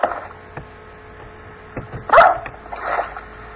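Dog barks and yips from a Minecraft game, a few scattered bursts of moderate loudness, with a sharper louder bark in the middle and a softer one near the end.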